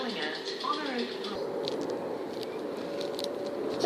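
A Southern passenger train on the Brighton main line stands at a station platform, with a steady low rumble and hiss under a voice talking, plus a few faint clicks and squeals.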